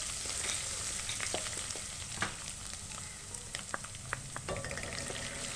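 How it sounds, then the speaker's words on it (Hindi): Garlic and ginger paste sizzling in hot oil in a frying pan while cooking a spicy okra and potato curry, a quiet continuous crackle with scattered pops and light stirring clicks. "लहसुन और अदरक का पेस्ट डालेंगे"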